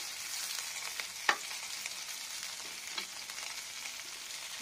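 Rohu fish pieces frying in hot oil in a pan, a steady close sizzle with a few sharp pops and crackles, heard alone with no talking.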